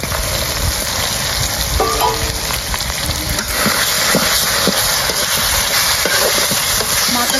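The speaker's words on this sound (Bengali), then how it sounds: "নুন ইলিশের মাথা দিয়ে কচু শাক রান্না করবো, তাই আগে ভেজে রেখে নিই" Salted hilsa fish heads fry in a pan with a steady, loud broadband sizzle throughout, punctuated by a few soft clicks and scrapes of stirring close by.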